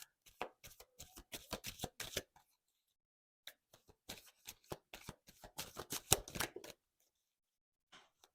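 Tarot cards being shuffled by hand in quick crisp riffling bursts, two clusters of rapid flicks separated by a short pause, close and fairly quiet, with no talking.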